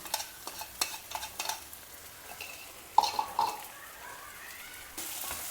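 Soft scraping and clinks of brinjal fry being gently stirred with freshly ground spice powder in a pan, quiet and close, with a few light taps of the spoon against the pan and no talking.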